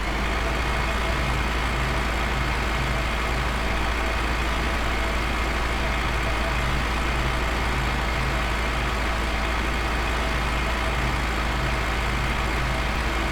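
Old tractor engine in Farming Simulator 15, driving across a maize field: a steady low diesel drone with a faint rhythmic throb, continuous and fairly loud throughout, with no talking.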